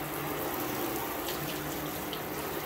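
Water from a hose sprays steadily over a car during a rinse, a continuous close hiss and splash with no talking.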